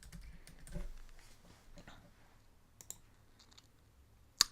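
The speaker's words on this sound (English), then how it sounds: "Type your name." Someone types a name on a computer keyboard: a handful of soft, sparse key taps close by, ending in a sharper click, with no talking.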